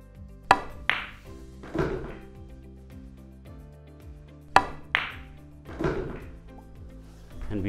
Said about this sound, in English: how to play a stop shot first, which is always hitting as low as possible and just adjusting the speed